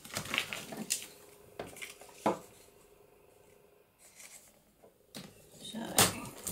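Paper is snipped with scissors for a trifold pocket craft embellishment: several short, crisp cuts spaced a second or so apart, close up, with quieter handling noises between them.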